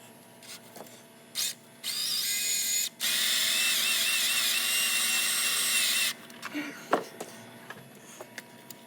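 Power drill spinning a cleaning wheel against the exhaust manifold sealing surface of a 24-valve Cummins, a loud steady whirring grind in two bursts lasting several seconds, followed by light clanks and handling noises.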